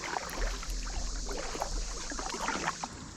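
A kayak paddled along a river on a camping trip, giving a continuous close wash of water splashes and dripping paddle strokes with no pauses.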